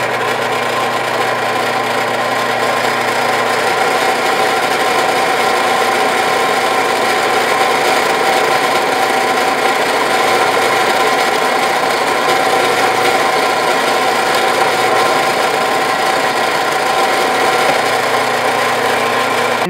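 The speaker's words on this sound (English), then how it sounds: "we'll drill a little bigger than a 1/4 inch here in the middle of the body so that the dowel can rotate freely." Power drill boring a hole through the wooden body of a hopping kangaroo toy, a loud continuous whining motor drone held steady throughout with no pauses.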